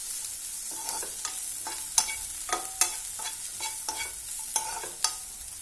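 Chopped mushrooms sautéing in a pan, with a steady soft sizzle broken by a regular series of spatula scrapes and taps as they are stirred, close by and with no talking.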